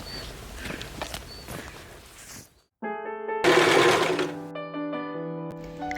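An electric sewing machine stitches curtains, its fast mechanical whir running loud and steady in bursts with a brief pause between runs, the final stretch ringing with bright tonal hum.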